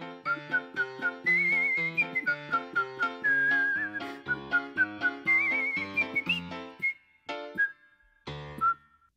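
A bright, clear whistled tune plays over light musical accompaniment, melodic and steady, with short pauses between phrases.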